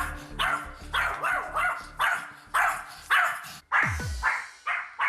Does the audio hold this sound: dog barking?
yes